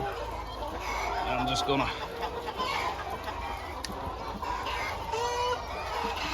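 Chickens cluck and crow in a barn or coop, a busy mix of fowl calls under steady background noise, with someone briefly speaking nearby.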